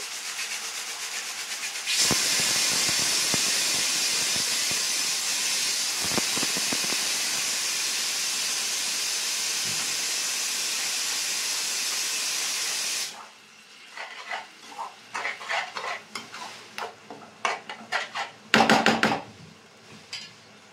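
Tomato puree hitting fried onions in hot oil for chole paneer masala, a sudden loud sustained sizzle and hiss that cuts off after about eleven seconds, followed by scraping and stirring clatter in the pan.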